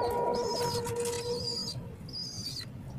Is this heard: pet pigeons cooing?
yes